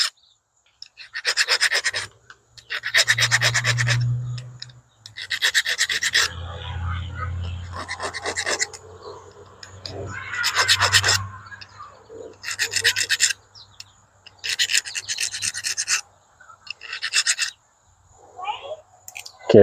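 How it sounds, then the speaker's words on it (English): A hand file rasps back and forth across a hard bolt in repeated bursts of strokes, close and loud, with short pauses between sets. "I'm also going to file this bolt too."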